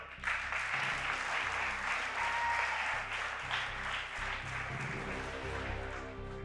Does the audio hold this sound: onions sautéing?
no